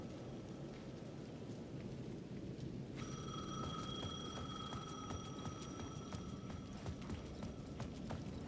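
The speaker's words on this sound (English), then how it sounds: "payphone at the edge of the plaza was ringing again." In the video game Alan Wake 2, a payphone at the edge of a plaza starts ringing partway through, a repeated bright electronic trill sounding over a steady hiss of rain.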